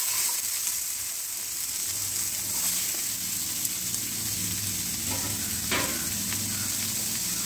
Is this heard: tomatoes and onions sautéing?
yes